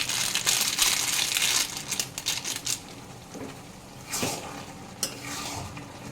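Ghugni frying in a pan with ground garam masala being stirred in, a dense close sizzle broken by scraping spoon strokes and a few sharp clinks, the stirring bursts coming in uneven waves.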